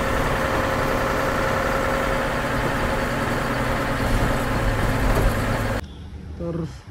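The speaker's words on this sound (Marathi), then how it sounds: "हे सगळे इंजिन्स आहेत, हे कमिन्सचे इंजिन्स आहेत।" A Cummins diesel engine idles nearby with a steady, loud, even drone for most of the stretch, then drops away sharply to a quieter hum near the end.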